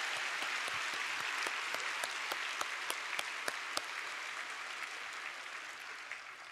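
An audience claps for children in a steady, moderately loud round of applause, with a few sharper individual claps standing out in the first half before it evens out.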